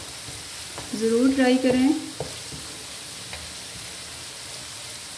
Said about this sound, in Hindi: थोड़ा सा इस आयल में फ्राई करती हूँ ताकि ये हमारे लो फ्लेम पे करूँगी